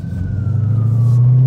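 An ambulance siren sounds as a loud, steady tone that drifts slowly downward over a strong low vehicle rumble, heard from inside a car on the road.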